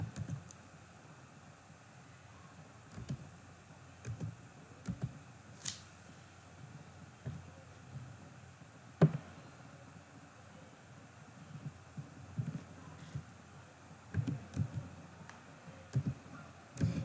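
A product code is typed on a computer keyboard, with sparse soft key clicks in small clusters against a quiet room, no talking over them.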